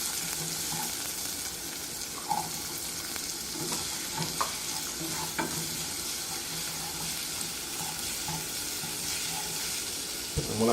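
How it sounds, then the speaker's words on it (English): Onions and green peppers frying in two teaspoons of olive oil in a pan, a steady soft sizzle with occasional stirring clinks throughout, close and continuous, with no talking. "I have 2 teaspoons of olive oil going. And I will now add my onions. And I will put in my green peppers."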